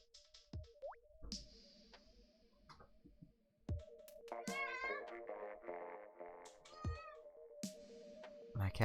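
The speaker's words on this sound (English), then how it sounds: "My cat meows again." A house cat meows repeatedly in the foreground, its calls rising and falling over the steady electronic music and sound effects of a Splatoon 2 game.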